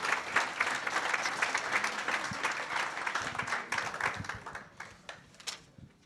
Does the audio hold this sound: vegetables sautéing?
no